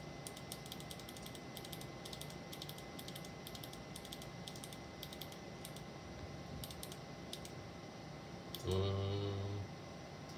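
Rapid bursts of computer keyboard typing clatter in irregular clusters over a steady fan hum, with a brief tonal beep near the end.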